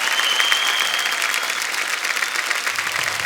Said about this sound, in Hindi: सूर्य के लिए जोरदार तालियां।